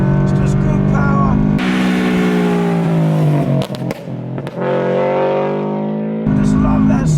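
A Subaru BRZ engine revs hard toward its 7,000 RPM redline, rising pitch climbing in steady pulls with a brief lift between, loud and close from inside the cabin, no talking over it.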